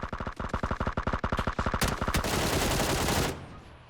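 Suppressed QBU rifle fire in PUBG, a rapid run of evenly spaced sharp shots that blurs into a dense burst of crackling impacts before cutting off abruptly.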